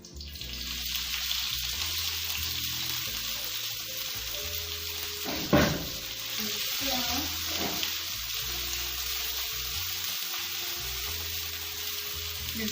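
Ginger and onions sizzling in a pan while an omelette is cooked in an African village, a steady close frying hiss throughout with a brief louder splash-like burst midway.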